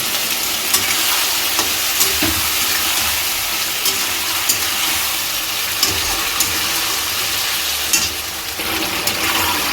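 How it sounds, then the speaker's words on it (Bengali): Chili chicken being stirred in a pan after cornflour water is added, a steady close sizzle and bubbling with repeated scraping strokes of the spoon throughout, no voices. "কর্নফ্লেক্সের জলটা দিয়ে আমি একটু ভালো করে নাড়িয়ে ছাড়িয়ে আর একটু জল দিয়ে দেবো"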